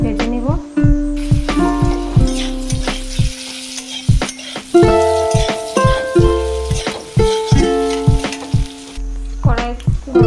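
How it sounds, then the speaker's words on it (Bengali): Boiled potatoes fry in a pan, with loud close clatter and scraping of stirring over a sizzle, and bursts of music play over it. "আলুটিকে এখন ভেজে নিব।"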